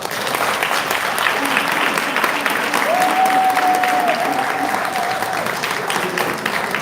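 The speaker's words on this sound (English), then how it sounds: "So can you give the candidates a round of applause?" An audience at a candidate forum in Newark, New Jersey applauds the candidates in a steady, dense round of clapping that fills the whole stretch, with a faint whistle-like tone briefly riding over it.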